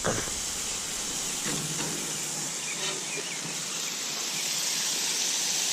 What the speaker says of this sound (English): Again, our burgers are sizzling away.